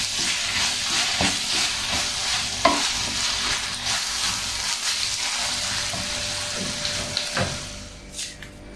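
A spoon stirring a filling with grated mozzarella in a pan, a continuous soft scraping hiss with light sizzle and occasional clinks, close by.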